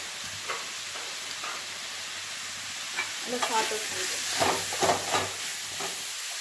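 Fried rice stir-fried with chilli powder and garam masala in a hot pan sizzles steadily, with louder bursts of scraping and tossing from the spatula in the second half, no voices.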